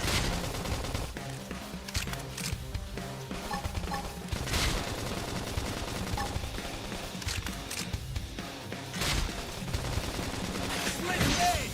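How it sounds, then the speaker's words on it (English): Gunfire from the video game Xenoblade Chronicles X, dense rapid bursts and shots layered over continuous battle effects and game audio, steady and busy throughout. "Topple them with some gunfire!"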